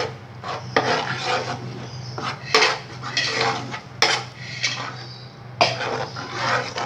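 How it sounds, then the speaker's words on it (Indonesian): Ground garlic, shallot, chili and candlenut paste is stirred in a pan for fried noodles, heard as repeated loud clanks and scrapes of a utensil against the pan over a steady low hum. "tumis ya bumbu yang udah dihaluskan ya bun. Tadi bawang putih, bawang merah, cabai, kemiri, ini udah dihaluskan. Kita tumis sampai harum."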